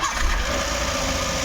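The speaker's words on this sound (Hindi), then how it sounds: "इग्निशन ऑन किया है और अभी इंजन को स्टार्ट करता हूँ।" A Maruti Suzuki Eeco with a misfiring engine and a lit malfunction light starts up and settles into a steady, close, loud mechanical rumble with no talking.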